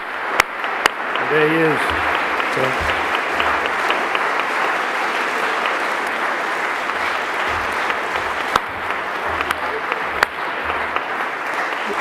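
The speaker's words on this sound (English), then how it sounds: "With all that applause, I haven't had a chance to tell you what it's about" Sustained applause from an audience at a literary awards ceremony for the announced winner, broad continuous clapping under a brief spoken line near the start.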